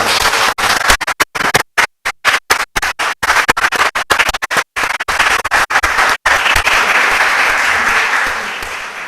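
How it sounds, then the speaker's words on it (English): Loud, sustained applause from a town board meeting audience for two-time state champion bowlers, a dense roar of many hands clapping close by, with brief dropouts, lasting around nine seconds before thinning slightly. "give them a round of applause"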